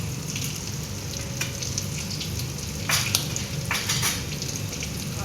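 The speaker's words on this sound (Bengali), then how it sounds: "আমি এর মধ্যে 2টো তেজপাতা আর একটু গোটা জিরে ফোড়ন দিয়ে দেব।" Two bay leaves and whole cumin seeds sizzle in hot oil in a pan, a steady close crackling hiss with a few louder bursts of spattering.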